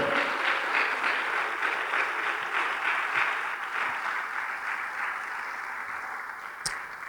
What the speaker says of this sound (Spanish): Dele fuerte las palmas al Señor